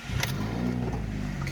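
A 2003 Honda Accord EX V6 coupe with over 650,000 miles cranks over on a cold start, a short starter whir followed by the engine catching and settling into a steady low rumble.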